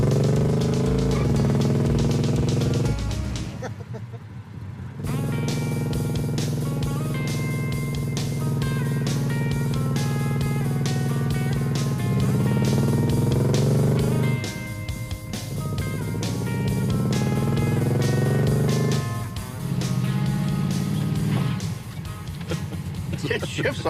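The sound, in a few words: GT car engine running with lifter knocking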